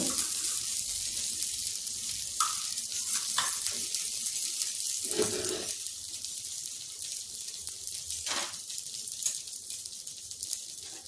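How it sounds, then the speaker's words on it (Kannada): A vegetable pan bun fries in oil in a pan, giving a steady close sizzle throughout with a few brief scrapes from stirring or turning. "ಇದನ್ನು ತಿರುವಾಕ್ಕೋಬೋದು ಇದನ್ನು ಮತ್ತೆ ಸ್ವಲ್ಪ ಎಣ್ಣೆ ಹಾಕೋಣ"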